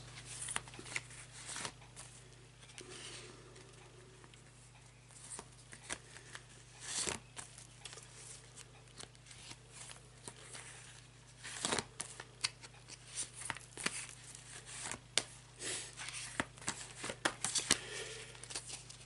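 Tarot cards shuffled at length by hand during a relationship reading, a long run of soft riffling and slapping clicks with irregular sharper snaps, close and quiet over a steady low electrical hum, with no talking.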